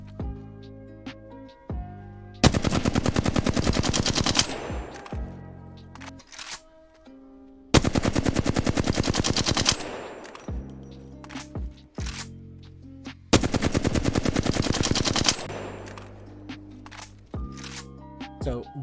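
A Flatline rifle fires in Apex Legends in three long, rapid automatic bursts, each loud and dense, separated by pauses filled with game music and a voice speaking.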